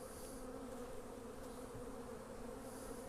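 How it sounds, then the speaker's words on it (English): A dense swarm of honeybees drones steadily at an open hive on a pallet, a continuous faint buzzing hum with no voices over it. "There's a bunch of bees."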